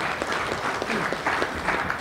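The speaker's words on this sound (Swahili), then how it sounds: "Nilitegemea kina mama watapiga makofi mengi zaidi." An audience applauds after a speech at a meeting on an industrial census, many hands clapping in a dense, continuous burst at close range.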